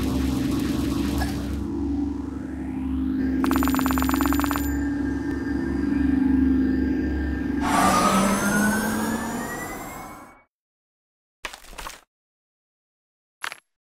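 Loud electronic phone ringing and wailing tones from a call to an ambulance in the game Kick The Buddy sound continuously for about ten seconds, then stop, followed by two brief noisy bursts.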